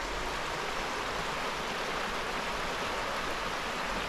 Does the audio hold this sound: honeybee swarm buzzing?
no